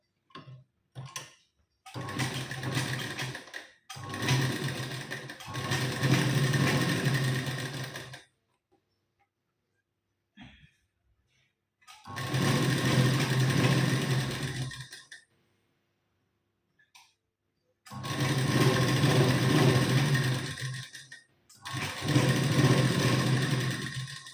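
A sewing machine stitches the waist seam of a blouse in several loud, steady bursts of whirring, separated by short quiet pauses and a few faint clicks.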